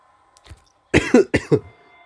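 A short fit of coughing: a faint cough followed by a quick burst of three or four harsh, close coughs in a quiet room.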